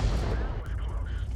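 Bat.-Châtillon 155 55 artillery gun in a tank video game firing a single heavy round, a loud low boom with rumbling decay, under a voice talking.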